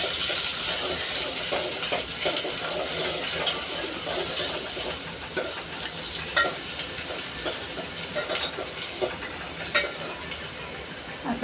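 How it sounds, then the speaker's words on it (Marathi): Chopped onion sautéing in oil for a white-pea usal gives a continuous close sizzle with soft crackles and occasional stirring knocks of a spoon in the pan, steady and fairly loud throughout. "कांदा आपल्याला छान असा तेलावरती परतून घ्यायचा आहे"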